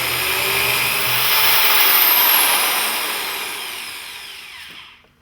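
A power drill bores small pilot holes in a kitchen cabinet to mount a magnetic child-safety lock, a steady loud whine that swells and then cuts off at the end, with no voices.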